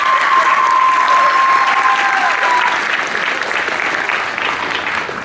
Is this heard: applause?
yes